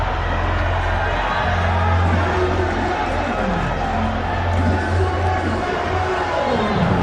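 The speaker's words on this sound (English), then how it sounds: "See the fans also screaming." Fans screaming and cheering in the stands at an under-18 and under-20 athletics championship in Abeokuta, a loud continuous crowd roar with whoops and babble rising and falling across the whole stretch.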